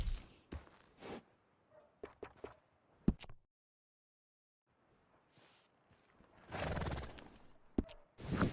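A horse whinnies near the end, amid scattered hoof clops and shuffling, with a quiet gap in the middle, in a video game stable.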